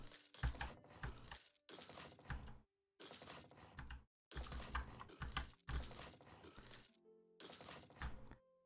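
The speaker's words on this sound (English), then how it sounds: "And who doesn't like some clicking, right?" Rapid mouse and keyboard clicking during a session of the strategy game Europa Universalis IV, close and fairly loud, in dense bursts separated by brief pauses.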